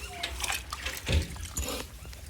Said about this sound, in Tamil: ஃப்ரெஷ்ஷான தண்ணியில் சுத்தமான தண்ணியில் அலசிக்கிறோம்